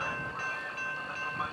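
A Norfolk Southern 233 freight train passes the Shell Road crossing in Chesapeake, Virginia, heard as a steady distant rumble of rolling railcars with a faint horn-like tone overhead.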